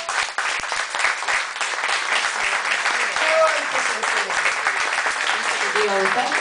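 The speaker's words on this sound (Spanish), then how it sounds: "Les quiero pedir un aplauso." Audience clapping continuously at an emotional bohemia-style music venue, a dense steady wash of many hands with faint talk mixed in.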